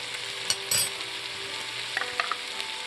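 Onions and garlic frying in a pan for a turkey, white bean and rice dish, with a steady soft sizzle broken by a few brief scraping stirs of a utensil against the pan.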